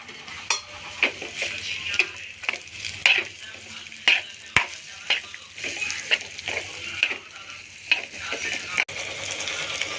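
Onions fry in a pan for a fish fry, giving a close sizzle broken by repeated sharp scraping and stirring strokes of a spoon against the metal.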